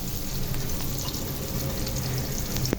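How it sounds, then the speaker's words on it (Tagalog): Chorizo Bilbao sizzles and fries steadily in a pan as lumpia filling cooks, a continuous close crackle with a sharper clink near the end. "pwede na natin ilagay yung isasahog natin na chorizo sa lumpia"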